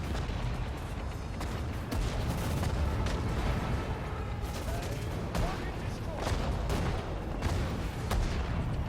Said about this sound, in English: So you can see everyone's now just firing on them.